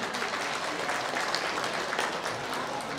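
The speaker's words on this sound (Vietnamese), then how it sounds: "nhờ quý vị một tràng pháo tay thật lớn để chào đón thầy" Audience applause for a Buddhist monk, Venerable Thích Quang Minh, stepping onto the stage at a vegetarian fundraising banquet for Linh Bửu Temple in Arizona: steady, dense clapping from a large crowd, sustained throughout.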